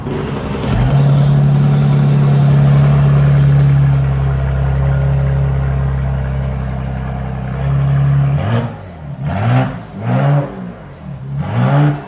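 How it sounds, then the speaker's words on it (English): Mercedes GLE 43 AMG with a 3.0L twin-turbo V6 and muffler delete, loud and close: a long steady idle drone, then a series of sharp revs rising and falling in quick bursts toward the end. "We're about to let you guys hear it."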